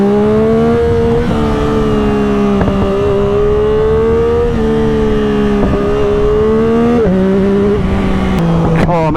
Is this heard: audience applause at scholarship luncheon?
no